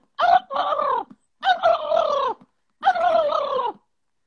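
Peacocks call in three loud, drawn-out wailing cries close by, with short pauses between them and no talk.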